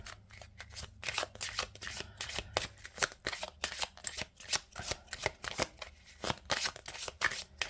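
Oracle cards are shuffled in a steady run of crisp riffling and slapping bursts, close and fairly soft, repeating in quick rhythmic strokes throughout.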